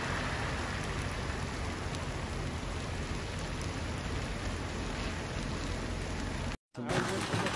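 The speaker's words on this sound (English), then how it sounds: "Heavy showers have lashed the country all night, with rain falling in varying intensities across the UAE" Heavy rain pours down during flash floods in Dubai, UAE, as a dense, steady hiss of downpour that stays loud and unbroken until a brief cutout near the end.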